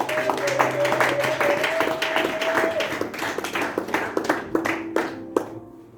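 A church congregation claps and cheers loudly, with dense rapid applause and sustained shouts that thin into scattered claps toward the end, alongside a held musical tone.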